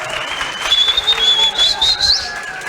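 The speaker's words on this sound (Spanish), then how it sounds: "Un aplauso" A live audience claps and cheers during a talk at a flat-earth conference in Chile, a dense burst of applause lasting a few seconds with some voices and whistles mixed in.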